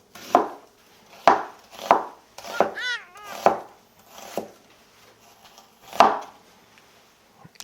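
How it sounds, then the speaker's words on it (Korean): Half an onion sliced as thinly as possible with a kitchen knife for a Japanese-style beef and potato stew: about seven crisp, close knife strikes against a board, spaced irregularly, with quiet gaps between them. "양파 반 개 이상을 채 썰어 가지고 넣어줄게요 최대한 얇게"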